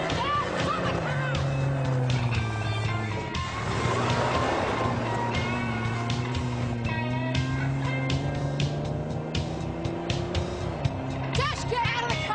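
A car pulling away down a driveway, its engine note rising and holding as it drives off, heard steadily under tense background drama with no clear speech.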